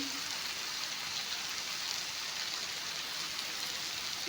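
Goat mutton pieces fry in a pan for a curry, giving a steady, dense hiss of sizzling fat that runs evenly throughout, close and moderately loud with no breaks.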